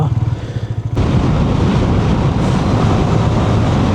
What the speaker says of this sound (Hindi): मेन हाईवे पे देखो कितनी बाइकें हैं।